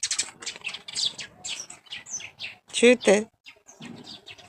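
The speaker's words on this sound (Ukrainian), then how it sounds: "Як пташечки співають." Small birds chirp and twitter in quick bursts under quiet nearby speech, with one louder trilling call standing out.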